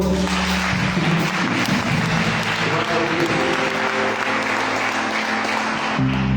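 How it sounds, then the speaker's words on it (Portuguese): A congregation in church applauds during worship, thick continuous clapping over sustained musical tones, with the crowd noise staying loud throughout. "Aplauda o Senhor."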